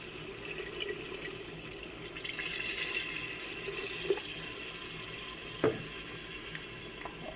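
Water poured steadily into daal chana in a pressure cooker, a continuous close splashing rush lasting several seconds, with a couple of faint clinks near the end.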